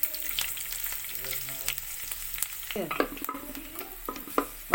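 Two green chillies fry in hot coconut oil with a close, crackling sizzle, joined by scraping stirs and a few clinks of the utensil in the pan.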